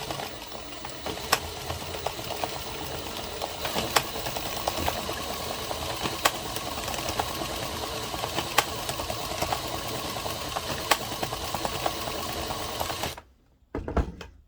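A 22-pin addi knitting machine is cranked with an empty yarn feeder to cast off, giving a steady, close mechanical whirring clatter with regular sharp clicks that runs continuously, then stops abruptly near the end.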